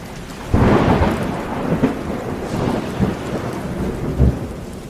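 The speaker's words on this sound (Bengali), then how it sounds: "আর ঠিক সেই মুহূর্তেই বিকট শব্দে আর একটা বাজ পড়ল" A thunder strike cracks in a stormy flood night, rolling into deep rumbles over steady falling rain. The rumbles swell and fade again in several heavy bursts, loud and close, with no voices.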